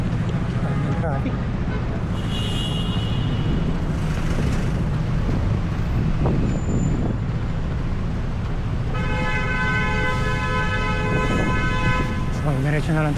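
Busy road traffic in Bonifacio Global City during a marathon run: a steady roar of engines and rolling tyres, with car horns tooting several times and voices talking over the din.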